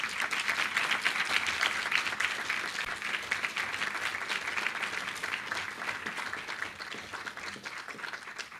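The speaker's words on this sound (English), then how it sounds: "Let's welcome her with a warm round of applause." Audience at a university professorial inauguration applauding warmly, a dense, sustained wash of many hands clapping that gradually softens toward the end.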